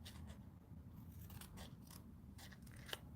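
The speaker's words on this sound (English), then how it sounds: "take my scissors and cut a little banner end on both" Scissors cutting a paper banner end, several close, quiet snips and scrapes of the blades in quick succession.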